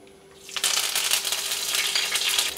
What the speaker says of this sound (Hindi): तेल गरम हो गया उसमें आधा चम्मच राई के दाने डाल के इसे अच्छे से तड़कने देते